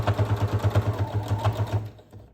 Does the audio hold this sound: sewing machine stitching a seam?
yes